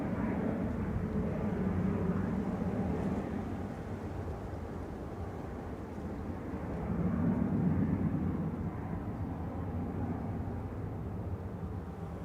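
A Boeing 737-800 touches down at Manchester Airport, its engines giving a steady, broad low roar that swells midway, heard from a distance with no talking.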